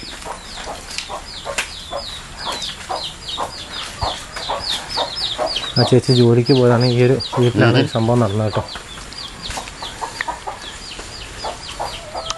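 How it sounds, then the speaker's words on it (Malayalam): Chickens cluck and call repeatedly in a rural Kerala house yard in Aralam, with a burst of louder clucking midway, while a person talks over them. "കുറെ കോഴികളൊക്കെ വളർത്തുന്ന സ്ഥലമാണ് ആണല്ലേ?"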